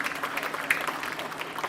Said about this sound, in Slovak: Potlesk silnejší